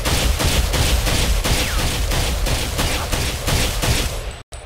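Rapid bursts of gunfire from a rifle in the online shooter Ghost Recon Phantoms, firing on the range: loud, dense repeated shots in a steady rhythm for several seconds, then a brief cut to silence near the end.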